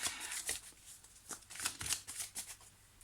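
Tarot cards being shuffled and drawn, a quick run of crisp papery riffles and flicks repeating closely through the moment, fairly quiet with no talk over it.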